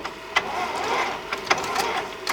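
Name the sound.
Epson C6500 ColorWorks label printer feeding labels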